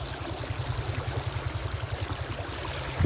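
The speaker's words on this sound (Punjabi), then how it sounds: "ਪੈ ਰਿਹਾ ਪਾਣੀ" Irrigation water rushes into a wheat field, a steady close wash of flowing water over a regular low thumping pulse, with no talking.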